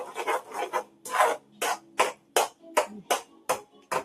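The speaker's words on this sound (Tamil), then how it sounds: "ஸோ இதை நல்லா நீங்கள் கட்டி இல்லாமல் நல்லா மிக்ஸ் பண்ணிக்கோங்க." Sugar and semolina kesari is stirred in a pan with a spoon, producing a steady rhythm of about a dozen close, gritty scraping strokes, one after another.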